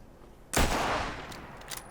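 A single sharp sniper rifle shot fired through a long recon scope in the Fallout 76 video game, a sudden loud crack with a booming tail that decays slowly over the following second.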